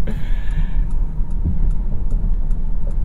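Steady, loud low road and engine rumble fills the cabin of a 2023 Mitsubishi Outlander PHEV driving in eco mode toward a highway, with faint regular ticks like an indicator clicking over it.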